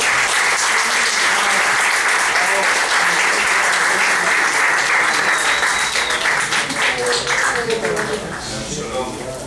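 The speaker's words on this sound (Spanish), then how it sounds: "Recibámoslo con un fuerte aplauso al director de la organización judío-sionista." An audience applauds at a lecture on Israel as a startup nation, held at a theology faculty: loud, sustained clapping that thins and fades toward the end, with a few voices mixed in.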